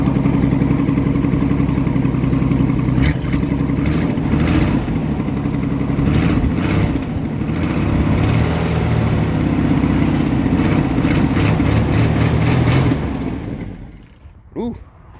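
A 1966 Ford Mustang engine revs hard and steadily up close for about fourteen seconds, a loud, rough mechanical roar that cuts off abruptly, leaving a brief faint knock in near silence.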